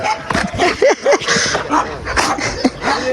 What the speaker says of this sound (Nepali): सो गाइस यही हो द डग